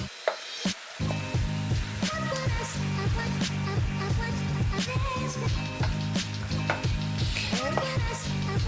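Frozen ground meat from a tube, fresh from the deep freezer, sizzles and fries steadily in a pan while being broken up, with repeated scraping and stirring taps from a utensil throughout.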